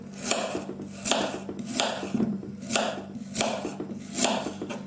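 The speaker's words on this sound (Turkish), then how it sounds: "Hemen havucumuzu da görmüş olduğunuz gibi yuvarlak yuvarlak doğruyorum." A knife slicing a carrot into rounds on a cutting board, five or six evenly spaced crisp cuts, each with a sharp knock on the board, heard up close.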